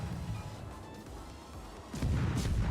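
Torpedoes hit an enemy ship in the naval video game World of Warships, set off by a Tier VII American destroyer, USS Mahan, as low rumbling booms that swell into a heavier, louder blast near the end.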